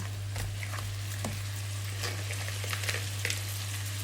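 Seafood for spicy garlic seafood fries in a pan, a steady close sizzle with scattered pops and a constant low electrical hum underneath, no talking.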